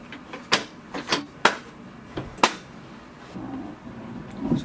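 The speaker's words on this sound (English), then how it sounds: "now you can close the ink cartridge chamber" Ink cartridge chamber of an HP DeskJet 3634 printer being closed, a series of sharp plastic clicks and snaps spaced irregularly, followed by faint handling rustles.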